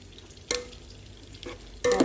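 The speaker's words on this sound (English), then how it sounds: "I'll give it a good mix again." Sausage chutney with grated tomatoes being stirred in a pan, with a few close scraping strokes over a soft, steady frying sizzle.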